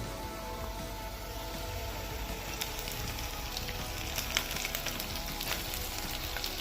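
Onions and green chillies fry in a pan on the stove, a steady broadband sizzle with small crackles and pops scattered throughout, close and fairly loud, with no voices.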